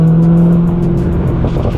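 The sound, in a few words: exhaust burble from E85 900HP Corvette ZR1 C6 with burble tune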